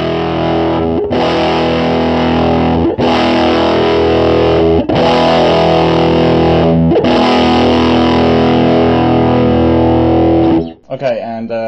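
An electric guitar chord is strummed repeatedly through a Fuzz Face fuzz pedal as the pedal is turned up. Thick, heavily distorted chords ring loud and sustained, about every two seconds, ending in a short scrape.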